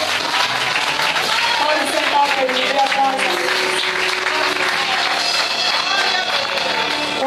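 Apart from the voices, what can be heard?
congregation applauding in church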